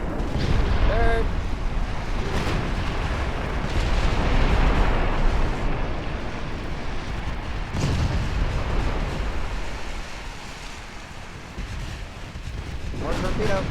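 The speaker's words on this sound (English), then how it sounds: "More torpedoes. Another torpedo." Heavy, continuous rumbling booms from torpedo explosions in the naval warfare game Ultimate Admiral: Dreadnoughts, several large blasts swelling and fading across the stretch with sharper bursts near the end, over a dense battle din.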